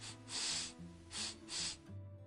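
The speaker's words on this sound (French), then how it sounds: "Il renifla" Squirrel sniffing as a story sound effect: four quick breathy sniffs in a row, close and airy, with soft pauses between them and a gentle tonal backing underneath.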